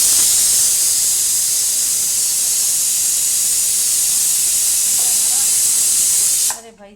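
Spiced tadka is poured into Punjabi methi kadhi, giving a loud, steady sizzling hiss that holds for over six seconds before cutting off abruptly.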